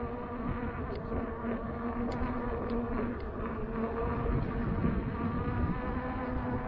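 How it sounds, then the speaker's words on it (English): A Sherman tank engine drones continuously with a rough, buzzing tone like a swarm of angry bees, steady and unbroken, with no voices. "That's the thing I like about the Sherman, is the angry bees."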